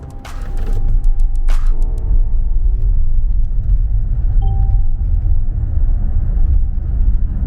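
A Mercedes-Benz EQC electric SUV with 760 Nm of torque pulls hard from a standstill, giving a steady, loud low road rumble and faint motor whine that holds through the run, with a few brief clicks near the start.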